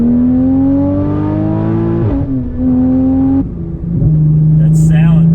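A track-modified Porsche Cayman R engine revs hard and close, its tone climbing smoothly through each gear before abrupt shifts drop the pitch, loud and sustained from start to finish.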